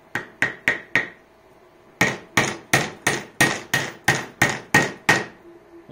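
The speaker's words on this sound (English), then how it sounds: "That one was a little long, so let's hammer it in here." Hammer blows driving a piece into a blank block of wood with no pilot hole: four quick sharp strikes, a pause, then a steady run of about ten evenly spaced, loud, close-up knocks.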